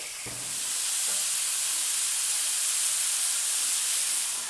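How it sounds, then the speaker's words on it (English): Onions caramelize in a pot for beef bourguignon, making a steady, bright sizzling hiss that swells early and holds, with a couple of light knocks at the start and no talking. "Okay, so we've taken the time to caramelize our onions."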